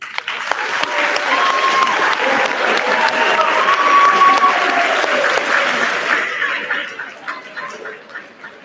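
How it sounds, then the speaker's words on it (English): Audience members at an eighth grade awards event give the teachers a warm round of applause, loud and sustained with a few cheers and chuckles mixed in, thinning to scattered claps at the end. "let's give a big applause to your teachers"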